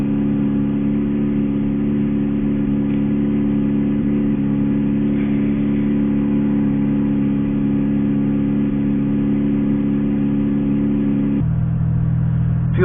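A 1994 Mazda RX-7 FD rotary engine idles steadily while warming up, a loud, even low hum with a constant whir, shifting to a lower tone near the end.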